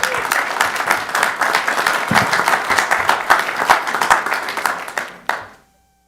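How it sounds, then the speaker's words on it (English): Sustained applause and clapping from the audience at a city council study session in North Augusta, loud and steady for about five seconds before cutting off abruptly. "Let's give him a round of applause."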